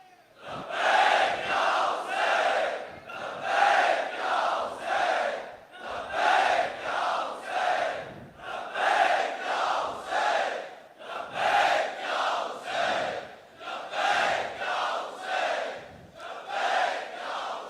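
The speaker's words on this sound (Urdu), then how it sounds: "مولانا کو یہ والے آواز والے نعرے تو چاہیے نہیں ہوتے." A large crowd at a Muharram majlis chants loud slogans in unison, with forceful rhythmic bursts repeating about every two seconds and filling the hall, with no other voices standing out.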